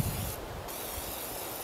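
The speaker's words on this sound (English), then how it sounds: "Shake it up, and I'm gonna spray it really good" Spray can of cleaner sprayed into engine cylinders, a close, steady airy hiss lasting the whole moment without breaks.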